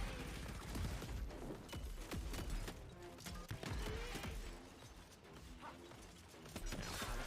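Rapid gunfire from the first-person shooter Shadow Warrior 3 during a multi-part boss fight: dense, continuous bursts of shots and sharp mechanical clatter packed over game effects and music, with no pause.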